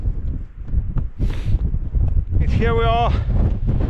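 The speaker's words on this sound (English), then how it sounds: "Oh, it's windy." Wind buffets an exposed hilltop on Windy Gyle in Northumberland. It roars and gusts against the microphone throughout, and a person speaks briefly over it.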